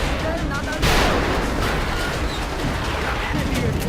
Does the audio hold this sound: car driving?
no